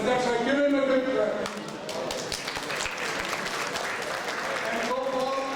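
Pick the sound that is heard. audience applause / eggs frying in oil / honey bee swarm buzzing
audience applause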